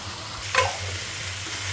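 Rice and meat being fried and stirred together in a pot for biryani, a steady low sizzle with one brief scraping stir near the middle, close and moderately quiet, no voices.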